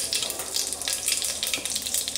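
Cumin, mustard seeds and asafoetida hit hot oil in a pan, producing a steady, close, bright sizzle with crackling and popping throughout, and no voices.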